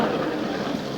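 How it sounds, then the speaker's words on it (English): A porterhouse steak sizzles in a hot frying pan, giving a steady, dense, close hiss that holds at an even loudness for the whole moment without a break. "That's the sound of a steak sizzling."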